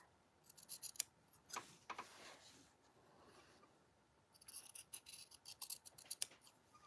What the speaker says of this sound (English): right now I'm just cutting it so that we have the bias tape for the entire bag.